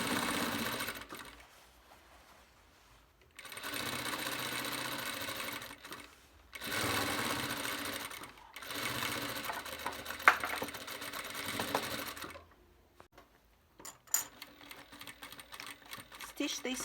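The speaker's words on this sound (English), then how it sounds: "Stitch the skirt front to the top front using 1 centimeter of seam allowance." A sewing machine stitches the skirt front to the top front of a summer dress, running in several sustained close bursts of rapid mechanical whirring separated by short pauses.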